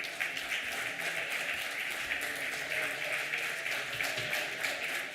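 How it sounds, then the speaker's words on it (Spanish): An audience at a cultural heritage conference gives the speakers a steady, dense round of applause that holds at an even loudness for several seconds. "Fuerte aplauso para ellos."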